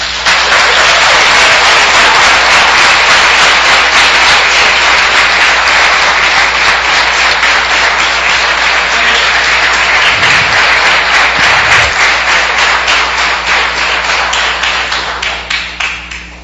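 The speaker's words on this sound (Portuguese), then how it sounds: "Merece uma salva de palmas." Sustained loud applause fills a council chamber during a solemn session honoring a pastor, a dense even clapping that holds for many seconds before tapering off at the end.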